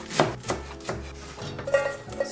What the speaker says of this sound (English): I'm gonna start with some spinach. I'm just gonna cut it so it mixes in easier.